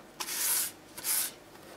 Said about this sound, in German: dass ihr auch alles einmal anschleift